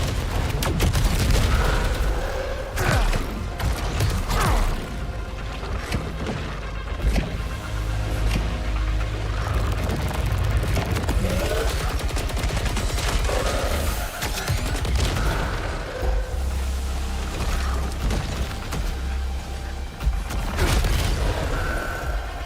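Dense, continuous game combat in Saros: rapid turret gunfire mixed with booming explosions and mechanical effects, loud and sustained throughout with layered impacts and a low rumbling bed.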